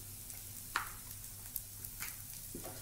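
Chopped onion and about two tablespoons of grated coconut sautéing in a pan for chutney, a quiet sizzle with a few sharp clicks of a spoon against the pan, no voices.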